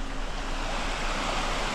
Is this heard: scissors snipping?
no